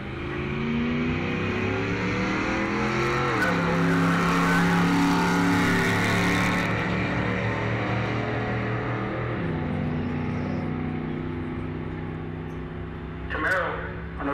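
Drag race cars, including average beaters, run down the track at a drag racing event, a loud, sustained engine drone that shifts pitch as they go and fades slightly near the end.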